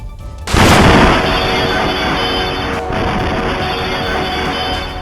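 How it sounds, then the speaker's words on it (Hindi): An explosion inside the Nowgam police station in Srinagar, picked up on CCTV: one sudden loud blast followed by several seconds of sustained roaring noise, with no talk. "ये ब्लास्ट नौगाम पुलिस स्टेशन के अंदर हुआ, जिसकी आवाज काफी दूर तक सुनाई दी।"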